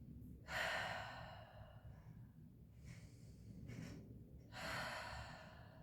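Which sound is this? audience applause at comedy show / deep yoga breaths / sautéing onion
deep yoga breaths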